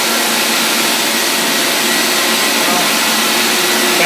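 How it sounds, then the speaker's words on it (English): A high pressure tile and grout cleaning machine vacuums up water from a floor, giving a loud, steady, close roaring suction noise that holds constant throughout. "stop your spray, vacuum up."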